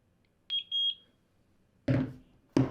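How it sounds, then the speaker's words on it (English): Two short electronic beeps sound clearly from a nearby Eufy Security SmartDrop delivery box, followed by louder thuddy bursts. "And then we'll hear 2 beeps."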